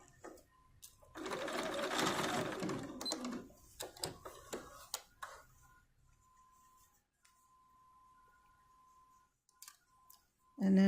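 Sewing machine running in a steady burst while stitching the seam of an 11.5-inch doll skirt, then fading into scattered clicks and light handling noises, with a short loud thump at the end.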